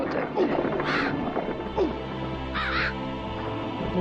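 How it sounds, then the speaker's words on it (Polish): Several crows caw from an in-game scene in a Halloween-themed play session, harsh calls repeating in short bursts over steady background game sound, with a voice talking partway through. "A, tych chyba wron się nie da pokonać."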